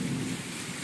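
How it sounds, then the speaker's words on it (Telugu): Loud thunder rolls through a heavy rainstorm in Kakinada, a deep rumble strongest at the start and easing under a constant wash of pouring rain. "చాలా గట్టిగా ఉరుగుతుంది."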